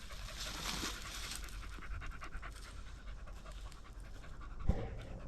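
A blood tracking dog pants while it rests, with a steady, rapid, close rhythm that continues through the whole stretch, broken by one short sharp knock near the end.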